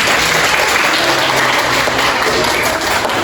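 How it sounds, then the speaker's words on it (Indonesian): A classroom of students applauds in a school lesson, a dense, steady wash of loud clapping that holds at the same level throughout. "tepuk tangan dulu untuk Laura."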